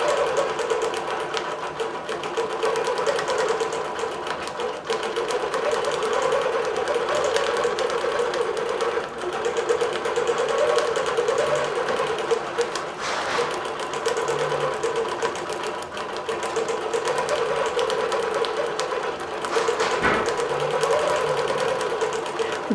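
A longarm quilting machine stitches across a quilt with a steady, fast mechanical whir and rhythmic needle chatter, close and continuous for the whole stretch, with no talk.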